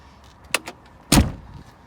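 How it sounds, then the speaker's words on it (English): A classic Rover Mini car door shuts nearby: a light click of handling, then one solid thud as it closes, with no voices. "Door shuts well,"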